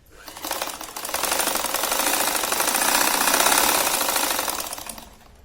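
A sewing machine stitches along one side of a ruffled envelope pillow cover, its needle chattering in a fast, even, loud run that swells and fades over about five seconds.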